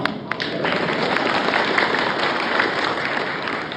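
A crowd at a Malayalam speech event applauds in dense, steady clapping that fills the whole stretch at a moderate distance, with a little faint murmuring underneath.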